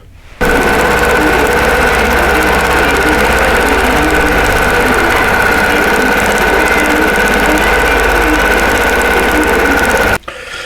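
A quilting machine stitches a loaded pantograph design, a close, steady motor hum with a rapid, even stitching pulse that runs unbroken until it stops near the end.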